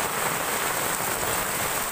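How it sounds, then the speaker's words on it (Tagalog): Heavy rain from Typhoon Quinta pours down in Pamplona, Camarines Sur, a dense, even hiss of drops striking surfaces close by, steady and loud from start to finish with no talk. "Maulan!"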